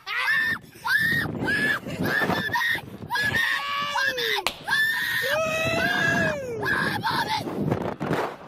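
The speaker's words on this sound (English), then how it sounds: "This kid is screaming for his mommy on a roller coaster and then he passes out?" A child screams and wails repeatedly on a roller coaster, high piercing cries in long bursts with short gaps, as heard from a played video, with rushing wind noise underneath.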